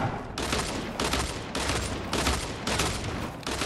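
Legendary dual pistols in Fortnite: Battle Royale fire in rapid, loud volleys. The bursts repeat roughly every half second with brief pauses between them, and no voices are heard.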